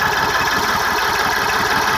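A tractor engine runs steadily at idle, a loud, close, continuous rumble with rapid rhythmic knocking pulses and a rough, gritty mechanical hum, with no talking.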